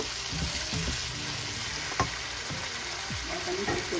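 Bottle gourd pieces tipped into a hot pan of oil after snakehead fish has been fried in it, giving a steady close sizzle with a few soft stirring clacks and scrapes, and no talk.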